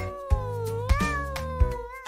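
Kittens meowing in a cartoon-style play setting, three or four close, clear mews following one another, with soft thumps between them.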